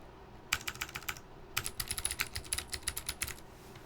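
Bursts of fast clicky keystrokes on a computer keyboard, a half-second flurry followed by a pause and then a longer steady run, close and crisp over a low background hum.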